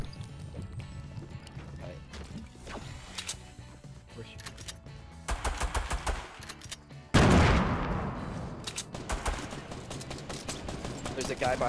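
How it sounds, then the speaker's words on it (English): Gunfire in a Fortnite Battle Royale match, including pump shotgun blasts, comes in scattered shots and rapid bursts, with one loud close blast partway through followed by continued firing. "He shot me with the pump through two different railings."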